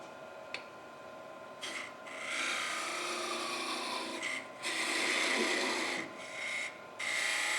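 A negative rake scraper cutting end grain wood on a lathe, making a steady dry rasping scrape in several bursts separated by brief pauses, close and fairly loud.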